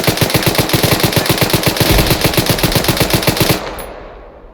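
A .50 cal machine gun in ArmA 3 fires one long sustained burst of rapid, evenly spaced heavy shots, loud and close, then the sound cuts off and a fading echo follows.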